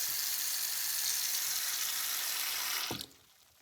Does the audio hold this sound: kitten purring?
no